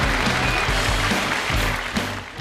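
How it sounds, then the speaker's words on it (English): An audience gives a round of applause for a volunteer at a virtual magic event, a brief steady patter of clapping under background music with a low pulsing beat, moderately loud. "Can we have some round of applause for Johan?"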